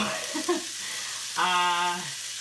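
Onions and garlic fry in a pan with a constant, close sizzling hiss, and a brief voiced sound rises over it partway through.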